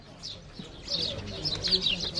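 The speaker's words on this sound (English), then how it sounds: "Look at all these birds." Birds chirping and calling at ancient Egyptian temple ruins in Luxor, a busy flock of bright chirps rising through the clip, close by over faint background voices.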